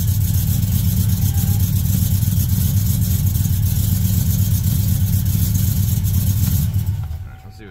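A car engine runs loud and uneven with a rough, pulsing low rumble that holds steady, then cuts out near the end.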